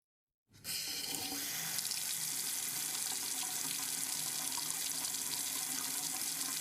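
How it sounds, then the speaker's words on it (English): Water runs steadily from a tap into a sink, starting abruptly and continuing as an even, close hiss and splash with no voices. "I splashed some water on my face trying to wake myself up."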